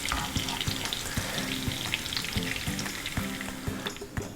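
Marinated soya chunks deep-fry in a pan of oil with a loud, bubbling sizzle. Crisp pops and crackles come through it at short intervals, and faint background music runs beneath.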